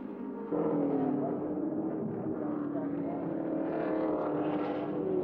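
Peter Brock and Alan Moffat's touring race car pulling away from a pit stop at the 1986 Bathurst 1000, a sudden jump into a sustained engine drone with a rising pitch, heard from a distance.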